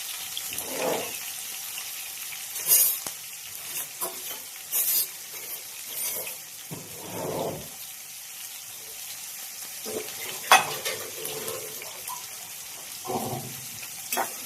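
Ingredients for meal maker biryani frying in a pan, with soft bursts of sizzling and scraping stirs coming and going between quieter gaps, plus a few sharper clinks.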